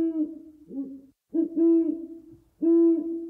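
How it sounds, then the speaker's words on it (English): Owl in the Terraria video game hoots in three clear, loud, hollow calls separated by short pauses, each call wavering slightly in pitch. "Terraria, Owl Noise of the Year."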